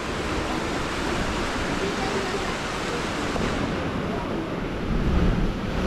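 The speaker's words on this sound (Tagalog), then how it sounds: "Malakas yung ano, hampas ng alon." Strong ocean waves crash and surge against the rocks beside a sea cave, giving a loud continuous roar of surf and wind buffeting the microphone close by.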